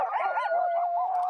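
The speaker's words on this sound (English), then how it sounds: "these dogs like to run. Listen to them when we stop." Sled dogs in Mongolia howl together close by in a sustained wavering chorus of overlapping pitched howls, heard alone without talk.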